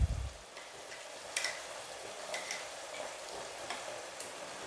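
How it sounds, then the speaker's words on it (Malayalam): Egg theeyal, a Kerala varutharacha egg curry, being stirred after ground coconut paste goes in; a soft, steady frying hiss runs throughout, with a few faint scraping stir strokes and no talking. "തേങ്ങയുടെ മിക്സും ചേർത്ത് നന്നായിട്ട് നമുക്ക് മിക്സ് ചെയ്തെടുക്കാം"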